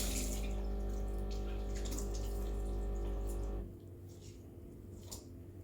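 A Breville Dual Boiler BES920 espresso machine steam wand purges with a loud, steady hiss and hum, then cuts off abruptly, leaving a quieter background.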